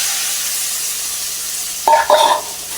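Raw mango tipped into a hot pan of sizzling onion, green chili and popping mustard seeds, a steady frying hiss broken by two brief loud bursts of stirring and spattering.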